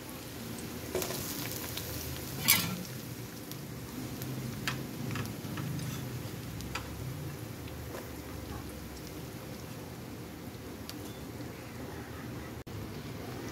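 Onions sauté in a pan for sinigang with a soft, steady sizzle and faint crackling ticks throughout, one sharper clack near the start, moderately quiet and close.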